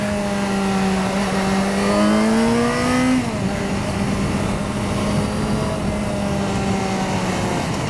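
A Yamaha XJ6 Diversion motorcycle engine revs and accelerates through the gears, a loud, continuous rising whine that drops at each shift and then holds steady.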